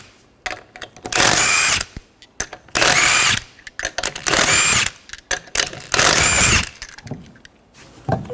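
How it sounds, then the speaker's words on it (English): A power impact tool spins off the lug nuts with a 19mm socket on a 2013-2019 Ford Escape rear wheel, four loud close whirring bursts separated by brief pauses with small clanks between them. "Remove the lug nuts, use a 19mm socket."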